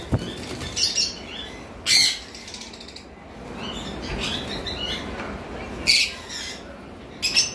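Pet conures calling at a bird farm, with sharp squawks at irregular intervals over a faint background of rustling and mechanical clicking.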